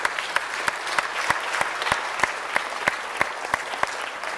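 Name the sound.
audience applause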